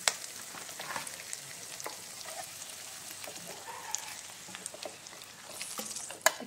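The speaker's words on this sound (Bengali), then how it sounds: "নিয়ে এখানে আমি একটু জল দিয়ে দেবো।" Onions frying in oil in a pan, with water added for a cauliflower roast, give a steady faint crackling sizzle with light stirring scrapes and a sharp clink near the end.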